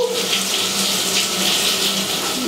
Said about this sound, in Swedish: Jag ska duscha!